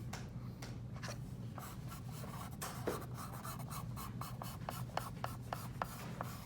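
Charcoal strokes rubbed on paper in continuous circular motions, a steady close scratchy rasp with a few sharper ticks of the stick, no voices.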